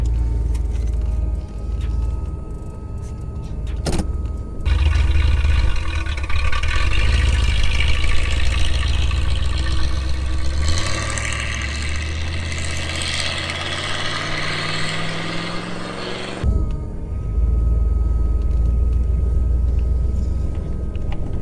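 A 1986 Pontiac Firebird base model hardtop cranks and fires up, then settles into a loud, steady idle. Its engine pitch swells and drops as it revs, and it cuts off abruptly near the end before running again.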